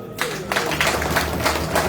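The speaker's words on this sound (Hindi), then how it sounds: "जोरदार ताली" Audience applause at a Ram Katha and Bhagavat Katha religious discourse: a steady burst of many hands clapping together, filling the hall with dense, continuous clatter for a couple of seconds.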